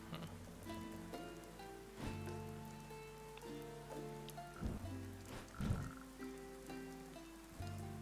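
Steady rain patters in the survival game Dead In Vinland, a soft continuous wash beneath sustained musical tones, with no voices.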